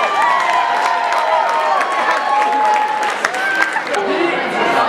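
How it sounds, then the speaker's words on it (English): A high school prom crowd applauds and cheers for the junior prince and princess, a loud steady mass of clapping with shouts and whoops mixed in. "Let's give our junior prince and princess a big round of applause."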